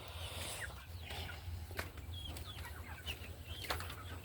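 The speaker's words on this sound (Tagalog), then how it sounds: "Pinakawalan ko na rin ang ating mga inahin para sila ay ma-exercise, para handa silang mangitlog." Free-ranging laying hens cluck in short, scattered calls at moderate distance over a steady low hum, with a few sharper bursts and soft wing flaps between them.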